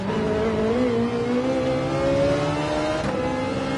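A race car engine in the video game Gran Turismo 7 drones loudly and revs slowly upward with a steady whine, then dips briefly near the end.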